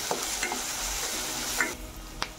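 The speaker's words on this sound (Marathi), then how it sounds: "1-2 मिनिट आपण हे वाटण कांद्यामध्ये शिजवून घेणार आहोत।" Green chili paste fries with onions in a pan for vada pav filling. A soft sizzle runs under several scraping stirs of a spoon against the pan, with a couple of sharper clinks and no speech.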